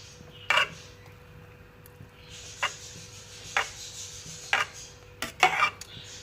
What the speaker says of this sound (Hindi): मक्खन जो है पिघल रहा है। हम इसको घुमाते जाएंगे।